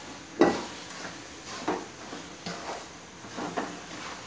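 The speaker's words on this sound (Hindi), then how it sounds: "इसको अब मिलाएंगे" Roasted semolina, raisins and almonds being stirred together for coconut rava laddoo, with a spoon scraping a pan in several soft, irregular strokes spaced about a second apart, close and fairly quiet with no talking.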